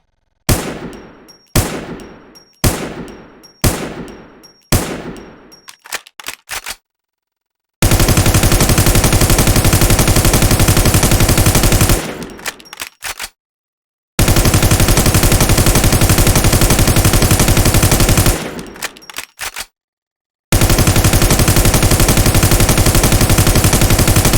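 Video game gunfire from a G36 rifle in Garena Free Fire: several short bursts of rapid shots with clean gaps between them, then long loud sustained automatic volleys broken by brief silences.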